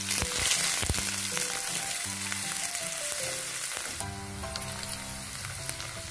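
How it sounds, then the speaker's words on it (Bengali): Chopped onions hitting oil with fried cumin seeds in a pan while cooking chana dal, giving a loud, steady close sizzle with a few utensil clinks and a fresh surge of crackle partway through. "এবারে আমি কেটে রাখা পেঁয়াজের টুকরোগুলো দিয়ে দিলাম।"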